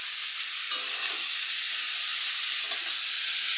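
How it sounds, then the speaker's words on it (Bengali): Bottle gourd, with thinly sliced potato, stir-fried in a pan for a crab and gourd curry, giving a steady close sizzle with soft scraping of the spatula throughout, no voices. "এবার আমি লাউ ভালো করে কষে নেব।"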